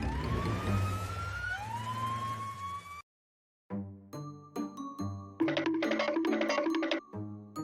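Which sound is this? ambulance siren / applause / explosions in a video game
ambulance siren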